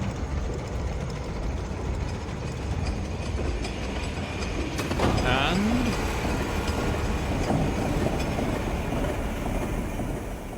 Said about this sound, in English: we change it to a locomotive sound